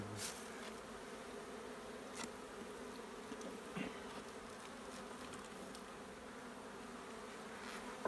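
A continuous, fairly quiet hum of many bees rises from an old log hive as honeycomb is cut from it, with a few faint clicks and knocks scattered through the drone.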